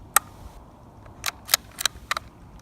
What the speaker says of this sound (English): click it off then, work that bolt